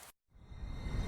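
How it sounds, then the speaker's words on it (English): Steady rain pouring down in a narrow alley in the visual novel game Chaos;Child, a dense broadband hiss that begins after a brief moment of silence and holds loud and constant. "All that was left was the rain."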